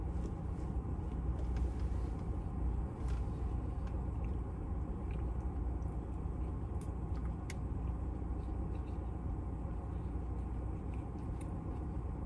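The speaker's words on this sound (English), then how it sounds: "so I got that car running so I can have the AC on." A parked car's engine idles steadily to run the air conditioning on a hot day, giving a continuous low hum and rumble that stays even and fairly quiet throughout, with no talk over it.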